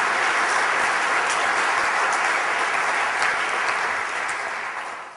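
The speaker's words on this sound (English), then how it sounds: "can we give it up for Ryan and the Carsonified crew?" A large audience claps and cheers in a hall, a dense sustained wash of applause at full strength that begins to fade toward the end.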